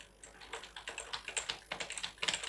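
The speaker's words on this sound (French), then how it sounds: "je suis en train de taper sur le clavier" Rapid keyboard typing, a steady run of light plastic clicks and taps close by, with no voices.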